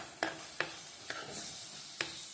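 Onions and tomato being stirred and fried in a pan for an okra tamarind curry, four distinct spoon scrapes against a soft steady sizzle.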